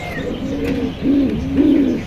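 Pigeons coo close by at the Jinjira Bazaar pigeon market in Keraniganj, Dhaka, with three soft, rolling coos in a row over a low murmur of market noise.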